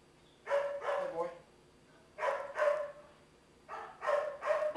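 A dog barks in three bursts of two or three barks each, separated by short pauses, close and fairly loud.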